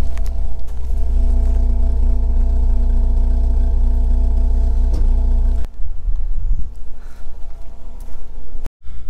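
A 1989 Volvo 480, started after sitting abandoned for eight years, runs with a steady, close, low rumbling idle. The tone shifts partway through, then cuts out briefly near the end.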